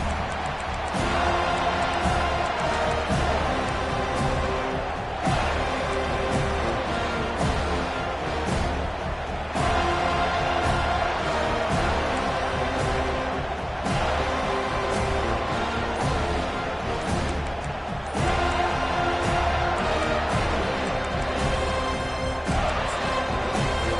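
Football stadium crowd cheering, a dense continuous roar that rises and falls in several surges, with music-like tonal layers running beneath it, loud and sustained throughout.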